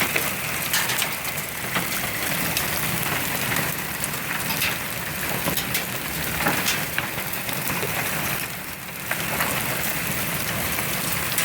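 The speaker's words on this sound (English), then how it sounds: "It's all hail coming down." Steady dense patter of hail or heavy precipitation striking surfaces nearby, continuous and loud with brief dips, no voices.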